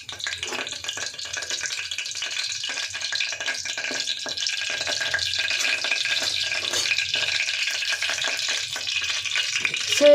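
Whole spices, cardamom, cinnamon, cloves and a bay leaf, crackle and sizzle briskly in hot oil for biryani, a dense, continuous frying hiss that swells slightly, with a small clink at the very end.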